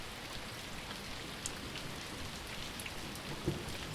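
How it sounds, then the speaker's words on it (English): Heavy rain pours down in a steady, dense downpour, a constant hiss of drops close by with no break, with a faint low rumble near the end. "with your shoulders hunched against the downpour"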